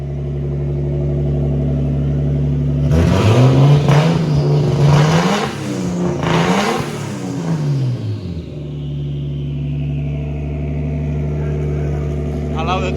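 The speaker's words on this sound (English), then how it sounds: "You want to give it a bit of a rev? Listen to that exhaust." A car on dyno day idles, then revs hard several times, the throttle rising and falling in sweeping surges with exhaust roar and a turbo whistle, before settling back to a steady idle; someone speaks briefly.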